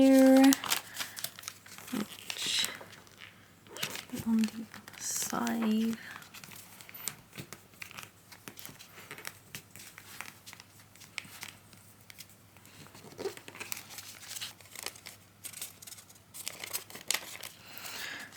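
Stiff sushi origami paper crinkles and rustles as it is creased and folded along a line, in close, irregular scraping bursts, while a person talks throughout.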